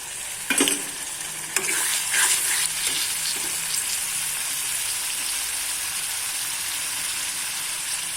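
Tomato paste stirred into a frying fish roe mixture, giving a steady, close hiss of sizzling oil with a few sharp scraping and stirring knocks early on, then continuous frying with no talk.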